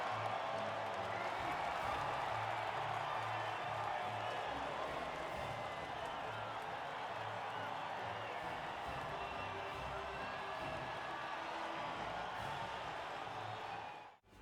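A crowd cheers and applauds around the podium after a race in the F1 2020 video game, a steady, dense wash of noise lasting the whole stretch.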